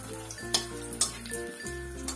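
Dried red chillies and a halved bay leaf sizzle in hot oil in a pan for a cabbage dish, a steady close frying hiss with a few sharp crackles and a brief stir, no voices.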